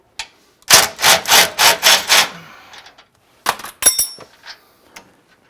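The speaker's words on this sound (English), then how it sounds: "So you can unhook it with a 19mm socket" A 19mm socket and wrench work the bolt of a Panhard bar on a 4x4 rear axle: a quick run of about six rhythmic rasping, ratcheting bursts, followed by a few sharp metallic clinks and knocks, close up with no talk.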